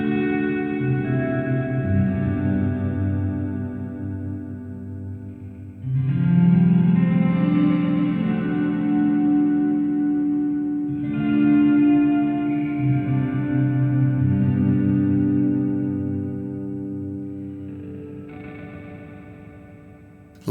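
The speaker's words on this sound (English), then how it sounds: "this is just the reverb now, got the mix all the way up" Guitar played through the reverb effect of a Hotone Ampero Mini with the mix turned fully up, sustained chords washing into long echoing tails, loud and alone without talk.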